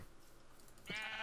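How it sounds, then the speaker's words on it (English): Sheep in a field in a video game: a single nasal bleat enters near the end, fairly loud and close, after a stretch of quiet low background ambience, with no talk. "I found a field of sheep."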